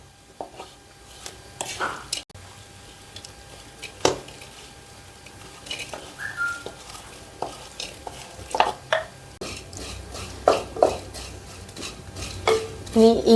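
Dried prawn powder roasting in a pan for chemmeen chammanthi, with scattered scraping and stirring clatters of a utensil against the pan and a faint sizzle, fairly close, with brief bits of voice.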